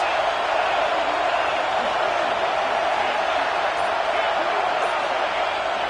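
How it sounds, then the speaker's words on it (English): A stadium crowd at a college football game between UT and Clemson roars loudly and without a break, a broad sustained wall of massed voices. "Listen to this crowd just shaking the girders of this place, trying to help their defense."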